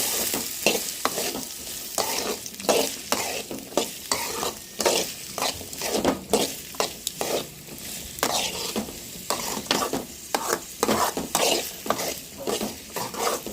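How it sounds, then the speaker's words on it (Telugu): Beetroot pieces stir-fried with tempering seeds, a utensil scraping and turning them in a pan in steady rhythmic strokes over a continuous close sizzle, with no talk. "ఇంక ఇలా మొత్తం కలిసిపోయేలా తిప్పుదాం"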